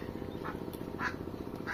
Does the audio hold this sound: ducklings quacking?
yes